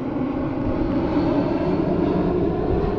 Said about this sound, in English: of course the jet's going over us.